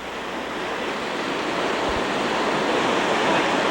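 A loud, steady roar of rushing white water from river rapids fills the air, building slightly in intensity, with no voices.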